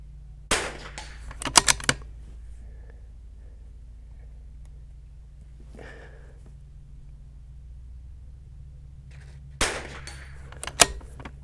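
Rifle shots ring out during an NRL22 precision match at an outdoor shooting range, two clusters of sharp cracks with rattling echoes separated by long quiet stretches, and faint distant pops between them.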